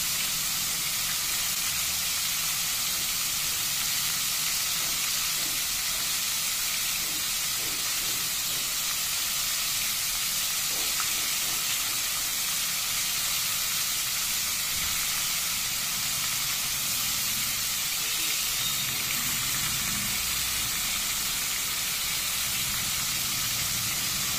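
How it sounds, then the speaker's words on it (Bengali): Bombay duck (loitta) fish frying in oil, a steady broadband sizzle and hiss holding level throughout with no talk. "এইভাবে এক এক করে সব মাছ আমি ভেজে নেব।"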